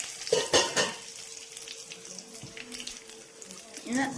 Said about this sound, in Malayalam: കുറച്ച് കരിവേപ്പിലയുടെ എല്ലാം ഒന്ന് ഇടുക അതിലോട്ടോ. കണ്ടില്ലേ, ഇങ്ങനെ ഒന്ന് ഇട്ട് ഇതൊന്ന് ഫ്രൈ ആക്കുക